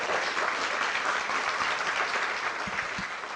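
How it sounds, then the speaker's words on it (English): Sustained applause from an awards audience honouring pioneer women at the Wisconsin Governor's Trailblazer Awards for Women in Business, a dense, even clapping roar lasting throughout. "Let's give a round of applause to all of our Pioneer women"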